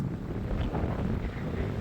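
Steady, heavy wind buffeting the microphone on a moving electric scooter, with a low, continuous roar and no voices.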